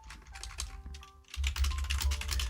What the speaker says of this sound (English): let's try typing that entire sentence again